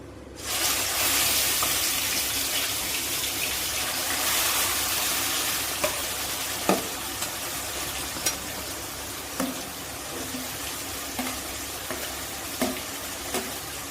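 Onion paste frying in a pan for Telugu-style fish curry, a continuous loud sizzle with occasional stirring scrapes and small pops, no voices.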